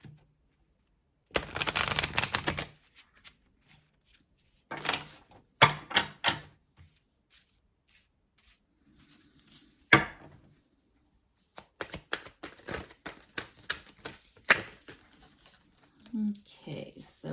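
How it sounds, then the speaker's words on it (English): Oracle cards being shuffled by hand in several bursts of riffling and slapping, close and crisp, separated by quiet pauses, with a faint voice in between. "That was a terrible shuffle."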